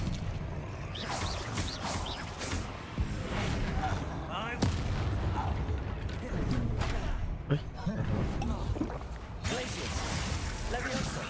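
Spell blasts and explosions from combat in the video game Hogwarts Legacy, a dense run of booms and crashes layered with game effects while a person calls out spell names throughout.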